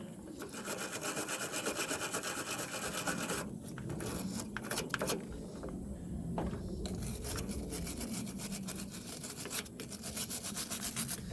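A brush scrubs car battery terminal cables with steady, close, abrasive back-and-forth rubbing that continues for several seconds with brief shifts in stroke.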